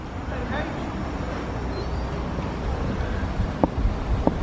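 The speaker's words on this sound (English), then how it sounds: "Windy, isn't it? It's very windy." Steady wind buffets the microphone with a constant rumbling roar, with a couple of brief knocks near the end.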